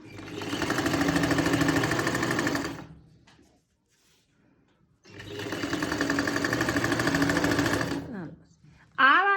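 Sewing machine running in two steady bursts, a few seconds each with a pause between, stitching the half neckline of a kameez, close and loud.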